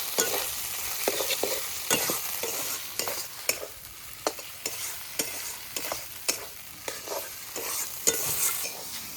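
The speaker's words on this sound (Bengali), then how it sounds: "আবারও বেশ ভালোভাবে মশলাটা কষাতে হবে।" Spice masala with salt, turmeric and chopped tomatoes fries in a pan, making a continuous soft sizzle broken by regular stirring scrapes and taps of the spoon, close up with no voices.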